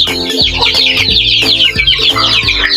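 Chickens and half-grown chicks in a free-range area keep up dense, overlapping clucking and peeping close by, busy and continuous throughout, with no talk.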